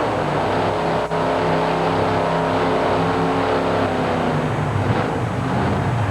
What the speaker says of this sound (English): He clears the throttle a couple of times,